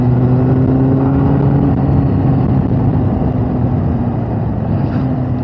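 A Yamaha XJ600 cafe racer motorcycle, still carrying some fueling issues, drones steadily while being ridden, its engine note loud and continuous with strong wind rush and no speech.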